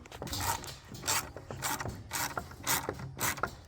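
Close, rhythmic clicking of a ratchet turning a screw into wood while a birdhouse pole is built, about five rasping strokes in a row, no talking.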